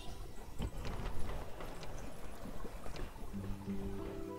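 Horse hooves clip-clopping in the Rome: Total War strategy game, Germania campaign, a steady patter of hoofbeats mixed with ambient game sound at moderate level, with no speech over it.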